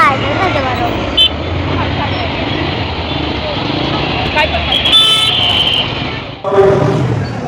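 Crowded street outside Thane station, dense traffic rumble with repeated car and motorcycle horn toots near and far, a brief sharp clatter near the end.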